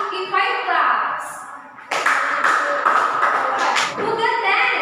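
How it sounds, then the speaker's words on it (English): A group in a classroom claps together about five times in a quick rhythmic burst, with voices chattering before and after. "Let's give us Ara in 5 claps."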